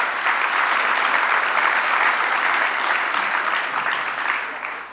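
A large audience at a community violence intervention winter convening breaks into sustained, dense applause that holds steady for several seconds before starting to taper.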